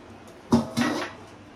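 A metal lid is set onto a cooking pot of Bengali pachon in a home kitchen, giving two quick close clanks followed by a short ringing scrape, with no talking.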